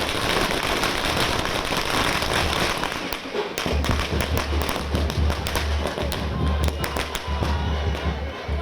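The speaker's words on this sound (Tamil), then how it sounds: "பட்டாசுகள் வெடித்து ரசிகர்கள் உற்சாகத்துடன் கொண்டாடினர்." Fans set off firecrackers outside a cinema for the release of Rajini's Petta and Ajith's Viswasam, sending dense crackling bursts and sharp pops through a loud, continuous din with low thumps underneath.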